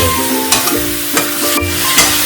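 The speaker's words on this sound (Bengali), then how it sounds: "আপনারা দেখতেও পাচ্ছেন সুন্দর ভাজা ভাজা হচ্ছে চিকেনগুলো" Chicken pieces frying in a pan for a coconut stew, a loud close sizzle broken by a few sharp scraping stirs at regular intervals, with no voices.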